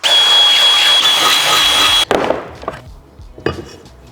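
Metal being drilled for a V8 swap in an E36 coupe build: a loud, steady high-pitched drill whine for about two seconds, then it stops and a few scattered clunks and taps of handling follow.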